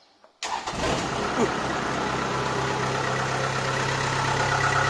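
After a brief quiet moment the heavy engine of a Kubota DC70 combine harvester cranks and catches, then settles into a loud, steady, rumbling idle close by.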